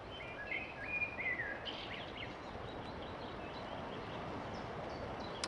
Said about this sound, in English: I'm just going to sit and listen to the birds for a bit.